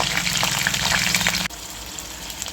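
Green chillies, curry leaves and onions hit hot oil for a tempering, giving a loud, dense hissing sizzle that suddenly drops to a quieter, steady fry halfway through, close by and without talk.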